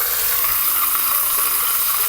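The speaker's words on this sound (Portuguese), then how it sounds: "Sinal que minha panela estava bem quente, a minha carne está selando e ela não está soltando água" Beef sears in a very hot pan, giving a dense, steady sizzle that stays loud and even throughout, with no talk over it.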